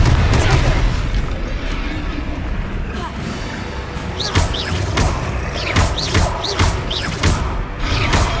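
Confringo fire spells explode in Hogwarts Legacy on PS5, with heavy booms and sharp blasts. Bursts arrive in a rapid, loud series over continuous battle noise, growing denser toward the end.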